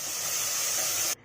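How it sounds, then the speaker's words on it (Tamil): Water poured into a hot pan of sautéed spices and garam masala for paruppu kichadi sends up a loud, steady steaming hiss that cuts off abruptly after about a second. "இப்போ இதில் தண்ணி ஆட் பண்ணிக்கிறோம்."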